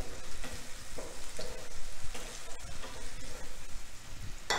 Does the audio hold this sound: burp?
no